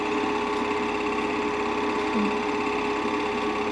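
A vintage film projector motor runs with a continuous, steady mechanical whir and hum, even and unbroken throughout.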